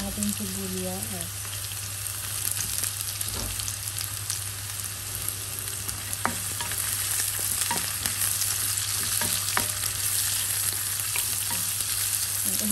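Chopped onions sauté in a hot pan for sweet and sour fish with a steady, even sizzle. A few sharp clicks of stirring sound over the sizzle, and no one speaks.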